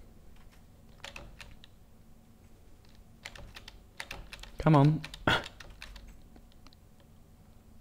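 Buttons in a video game are pressed at random, giving scattered, irregular clicks and taps near the listener. A brief voice and a short burst of louder noise come in partway through.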